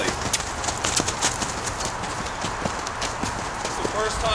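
A five-year-old Friesian gelding canters on its third ride, its hoofbeats thudding in a steady rolling rhythm close by, with a rider's voice talking over the continuous hoof noise.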